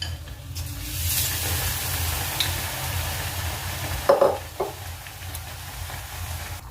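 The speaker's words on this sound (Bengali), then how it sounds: "আমি দুটো দুটো করে ভেজে নিচ্ছি।" Bread pakoras fry two at a time in a shallow amount of oil in a wok, making a steady low sizzle with a short cluster of louder spatula scrapes and clatter partway through.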